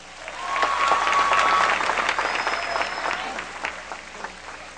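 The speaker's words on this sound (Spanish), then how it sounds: "Un aplauso para él, por favor." An audience at an interview event applauds the editor of a music video in a steady, dense wash of clapping that swells and then slowly tapers, with a faint tonal whistle over it.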